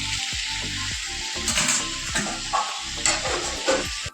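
Food frying in a pan on a home stove, a loud steady sizzle with repeated scraping stirs at close range and no talk.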